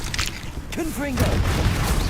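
Confringo fire spell going off in Hogwarts Legacy, a booming low blast mixed with game effects and a brief creature-like tonal cry, with a voice briefly heard amid the clatter.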